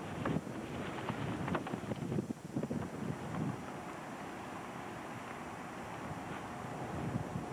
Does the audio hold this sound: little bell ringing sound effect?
no